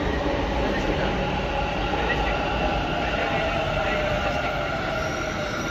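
A Bangalore Majestic metro train arrives with a loud, steady rumble and whine of wheels on rails, close and continuous throughout.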